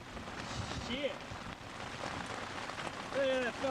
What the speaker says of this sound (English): Hope I don't ruin the camera. But it's hailing. Big time.